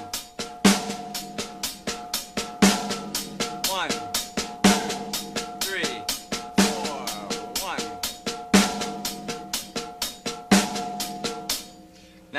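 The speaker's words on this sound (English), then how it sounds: "using ghost strokes with that hand" Quiet sixteenth-note ghost strokes played by hands alone on a snare drum, slow and steady, with louder accented hits recurring about every two seconds and a sustained ringing tone underneath.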